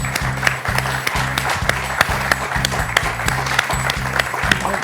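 Studio audience applauding on a French TV quiz show, a steady dense clapping wash sustained throughout, with repeating musical stings and tonal beats running underneath.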